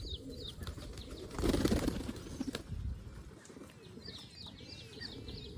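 Wild pigeons perched overhead beat their wings in a brief, loud flurry, with soft cooing and scattered chirps around them in an open setting.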